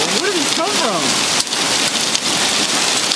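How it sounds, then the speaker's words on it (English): A hailstorm in Indiana pounds down in a loud, dense, continuous roar of impacts, with a brief vocal sound near the start. "Hail."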